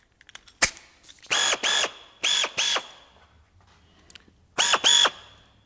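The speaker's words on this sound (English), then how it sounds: "we are going to remove this 600 grit scratch using a wool pad and XX polish" A compact power polishing tool spinning a wool pad loaded with Ceram-XX polish over a 600-grit scratch, heard as short, sharp whirring bursts, mostly in pairs, with clicks and brief pauses between.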